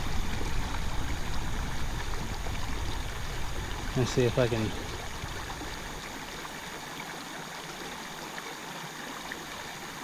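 Steady rushing stream water fills the scene, with someone briefly speaking over it before the flow continues alone.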